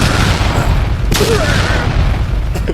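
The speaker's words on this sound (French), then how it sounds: "Insert bruit d'explosion." An explosion sound effect added in editing during a mountain-weekend vlog: a loud, sustained booming rumble with a sharp burst near the middle, alone and filling the whole stretch.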